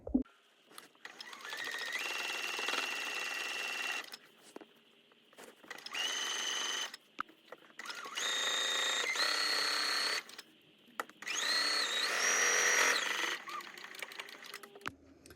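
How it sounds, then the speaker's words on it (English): Sewing machine stitching binding onto a Kimberbell Halloween embroidery quilt, running in three or four steady whirring bursts of a few seconds each, separated by brief pauses, close and fairly loud with no talk. "Lower the presser foot, and I will continue to sew this side."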